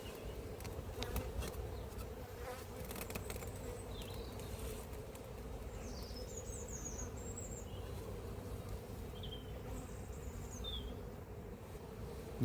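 Many honeybees buzzing steadily around an open hive during a queen rescue, a dense continuous drone close by with no talk.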